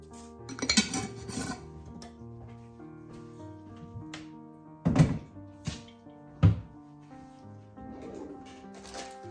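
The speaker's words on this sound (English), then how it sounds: "now I'm gonna mix this all up before I add in my oatmeal" Oatmeal zucchini cookie dough mixed in a bowl with vanilla, giving soft scraping stirs and a few sharp thunks of the utensil against the bowl, close and fairly quiet, over a faint steady hum.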